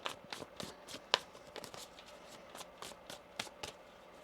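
Cards being shuffled close up in quick, uneven riffles and soft slaps, with small sharp clicks between, and no voices.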